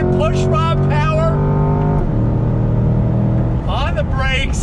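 A Chevrolet C8 Corvette with a naturally aspirated pushrod V8 pulls away from a stop, its engine note climbing through the revs, loud and close beneath someone talking over it.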